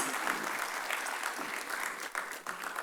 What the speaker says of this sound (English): Let us appreciate our sponsor for their support with a big round of applause.